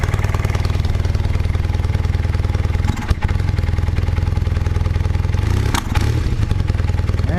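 A 1978 Honda CB400T motorcycle engine runs loud and close with a rapid, slightly uneven beat, briefly stumbling and surging twice as the throttle is blipped.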